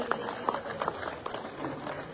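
Rally crowd applauding at an outdoor political gathering in Karawal Nagar, East Delhi, a dense steady wash of many hands clapping at moderate distance, with a few louder claps standing out.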